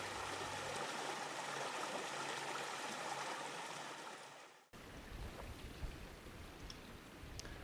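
A forest stream swollen with spring snowmelt rushes steadily as a dense, continuous wash of water, close and fairly loud, with the sound shifting abruptly partway through as if from a new spot.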